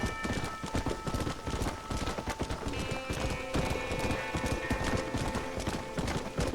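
Horse hooves clip-clop steadily in the video game Red Dead Redemption, a quick rhythmic trot of close, distinct hoof strikes over game music and ambience, with the horse briefly whinnying.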